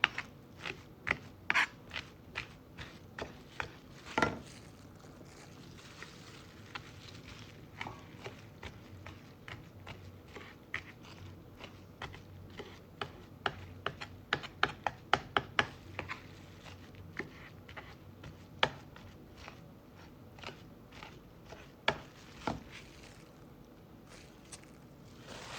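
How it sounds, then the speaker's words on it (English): A knife mincing buri ear on a cutting board for crispy egg roll filling, with irregular quick chopping taps, some faster clustered runs, over a quiet low background. "And now I'm mincing the buri ear."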